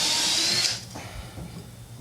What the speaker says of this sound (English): Pre-drill a couple holes here.